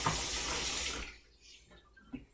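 Water runs steadily from a tap into a sink as a loud rushing hiss for about a second, then cuts off, leaving a few faint drips and clinks.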